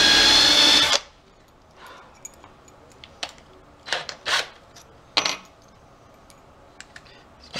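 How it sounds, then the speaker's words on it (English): A power drill bores a pilot hole during a pool table repair in a loud whirring burst of about a second, followed by scattered clinks and short scraping bursts in a quiet room. "I could just drill the whole pilot hole separate"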